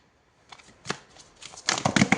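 Tarot cards shuffled by hand in quick riffling bursts, faint and scattered at first, then a louder, denser flurry of papery flicks toward the end, close by with no talk.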